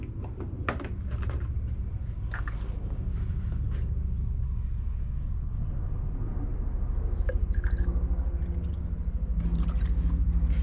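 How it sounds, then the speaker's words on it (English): Coolant pouring into the radiator of a 2008 Toyota Camry, a low steady gurgling flow with occasional drips and splashes, close by and continuous with no one talking. "I'm going to be topping off the radiator"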